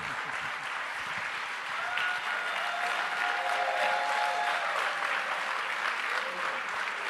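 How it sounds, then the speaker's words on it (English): An audience at a comic con main stage applauds steadily and loudly throughout, a dense wash of clapping with no break. "Keep clapping, keep clapping."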